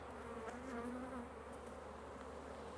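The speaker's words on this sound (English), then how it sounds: "Like there's a lot of bees in here, but they are honey bound." A steady, dense buzzing of many honey bees inside an open hive hums continuously at low volume, with no voices.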